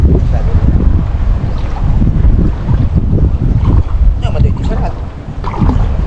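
Steady low engine rumble of a boat motor, loud and close, mixed with water splashing, wind buffeting and occasional voices.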